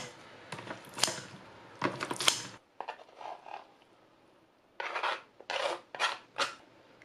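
Kitchen scissors snip through drained, cooked glass noodles for a cold mixed noodle dish, giving close, dry rasping cuts in short irregular bursts with brief pauses.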